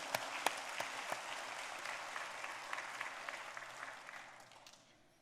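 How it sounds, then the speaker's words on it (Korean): A church congregation applauds itself during a Sunday service, a steady mid-distance clapping with a few sharp claps at the start that fades out over the last second. "여러분을 위한 박수, 자작 박수"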